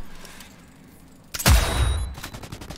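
Gunfire in the video game Cyberpunk 2077: after a quiet stretch, a sudden loud shot bursts out with a booming low tail, followed by lighter metallic clinks.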